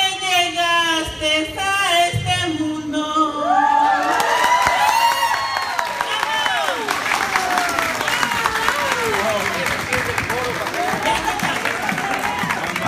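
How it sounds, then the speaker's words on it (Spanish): Guests at a Stockton party applaud and cheer, a blend of clapping, whoops and excited voices that swells after the first few seconds and stays lively, with raised voices mixed through the crowd noise. "Ahí está, fuerte el aplauso."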